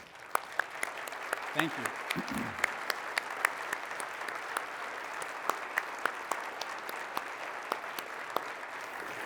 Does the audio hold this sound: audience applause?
yes